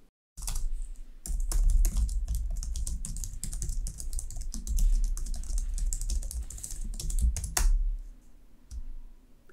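C# code being typed on a computer keyboard in a steady, close run of key clicks lasting several seconds, with a brief pause near the start and no talking.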